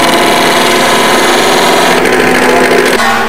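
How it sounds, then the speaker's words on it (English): Wood lathe spinning steadily in a school woodworking lab, a loud continuous mechanical whir with a slight shift in tone near the end. "Over here we have the wood lathe."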